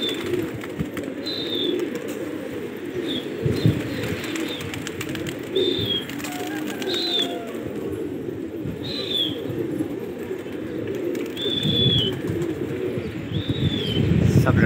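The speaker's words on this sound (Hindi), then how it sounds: "उड़ा दिए कबूतर" Pigeons coo steadily nearby as a flock of fighting pigeons is released into flight, with a dense rustle and flutter of many birds underneath, plus repeated short high chirps throughout.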